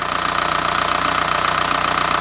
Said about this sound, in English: we've been letting this TDI run for a little bit